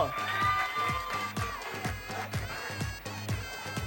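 A game show studio audience claps and cheers, the crowd noise running under a pulsing musical beat with bright sustained tones, lively and continuous throughout.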